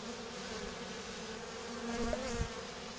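Dense buzzing of many honeybees inside a hive, with a faint high piping tone from the queen rising briefly near the end.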